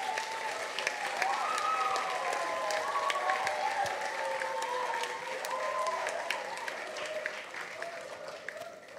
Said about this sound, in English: let's just give them a final, rousing round of applause